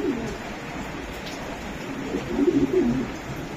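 A light silver racer pigeon coos close by, with low burbling calls that swell near the end over a steady murmur of background noise.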